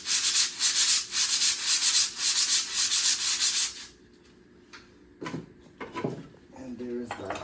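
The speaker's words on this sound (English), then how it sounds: "Came with many pairs of sand blocks." A pair of sand blocks from an antique drum set is rubbed together in a rhythmic scratchy swishing, about a dozen strokes, then stops; someone talks afterward.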